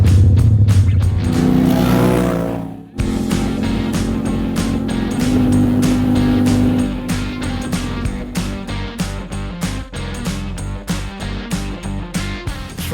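A car engine revs hard as the driver floors it, a loud close roar that climbs in pitch, drops briefly, then settles into a steady pulsing drone for the rest of the clip.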